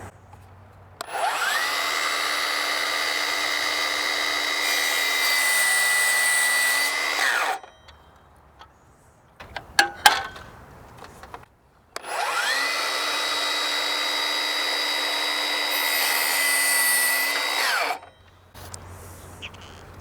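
A Milwaukee saw makes two 45-degree miter cuts through wood, each a loud, steady, high-pitched whine of about six seconds, with clatter and a brief pause between them.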